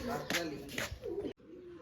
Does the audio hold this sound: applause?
no